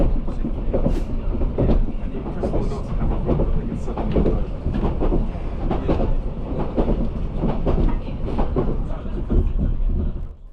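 The Caledonian Sleeper night train rumbles along the rails in snowy Scotland with a continuous low roar and rhythmic clickety-clack of wheels, heard from inside the carriage, loud and steady.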